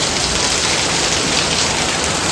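Heavy monsoon rain pours onto a Mumbai chawl, a dense, even roar of falling water that stays loud and unbroken throughout, with no voices.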